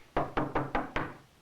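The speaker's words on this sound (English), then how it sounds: "Well, let's knock." Five sharp knocks on a house door land in an even, quick rhythm, each a solid hollow thump close by.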